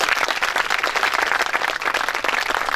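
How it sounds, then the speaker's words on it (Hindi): A conference hall audience bursts into loud, sustained applause at an education summit, many hands clapping densely and steadily for the whole moment with no speech over it. "इसके लिए एक बार जोरदार ताली।"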